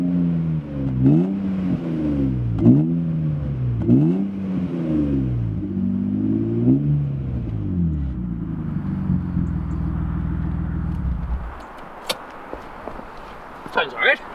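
An Avus Blue BMW E36 engine revs near the microphone in several rising and falling blips, then settles into a steady idle. Its drone stops abruptly, and a few clicks and light knocks follow.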